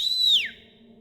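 A loud, sharp whistle from a delinquent in track pants in Tiny Bunny, held high and steady, then sliding downward as it fades, over a low background hum.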